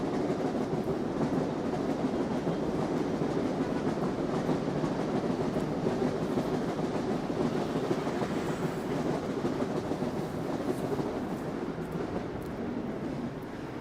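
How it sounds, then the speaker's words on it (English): A Long Island Rail Road train passes through Long Island City in Queens on a Sunday evening, its steady rumble and clickety-clack of wheels continuing throughout, moderately loud. "That's Long Island Railroad."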